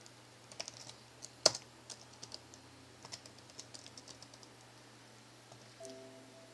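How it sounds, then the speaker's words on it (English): Typing on the keyboard of a worn-out ASUS K60I laptop: quiet, irregular clicks of separate keystrokes with one sharper louder tap, ending in a few faint electronic tones from the computer. "Let me just try to type something real."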